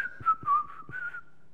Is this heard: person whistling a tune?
yes